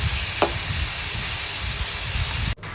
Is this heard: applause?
no